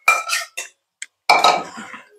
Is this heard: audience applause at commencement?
no